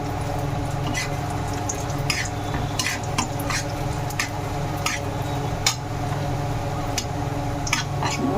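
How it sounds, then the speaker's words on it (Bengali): Cashews and raisins fry in hot ghee with a constant soft sizzle, punctuated by repeated scraping clinks of a spoon stirring the pan. "এই যে কাজু কিশমিশ একটু ভেজে নেব"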